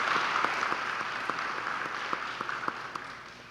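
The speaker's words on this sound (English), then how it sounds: "let's give Amanda a big round of applause for putting this together" Sparse clapping from a symposium audience honouring the event's organiser at a Parkinson's disease educational gathering, a steady wash of hands with a few sharper individual claps standing out, moderately distant and fairly soft.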